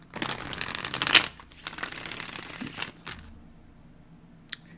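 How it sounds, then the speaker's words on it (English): Tarot cards being shuffled by hand, a dense papery riffling and flicking that runs for about three seconds, then stops, with a few faint card taps trailing after. "You're getting very specific points on the shuffles today."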